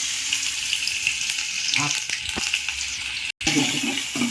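Ginger garlic paste frying in hot oil, giving a steady bright hiss throughout with a few light pops and spoon scrapes, briefly cut off near the end.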